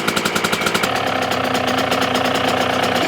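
A rebuilt two-stroke engine sits at idle after a carburetor cleaning, its beat fast and choppy with a pulsing, uneven rhythm that settles into a steadier run, loud and close with nobody speaking.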